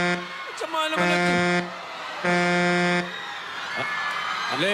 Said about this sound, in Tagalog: Lekat na busina naman niya.